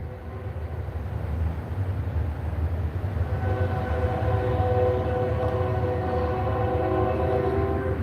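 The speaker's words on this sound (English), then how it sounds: "you hear how loud that train is?" A loud train rumbles past about a quarter mile away, a steady low roar with sustained horn tones swelling in the second half, continuous throughout with no speech.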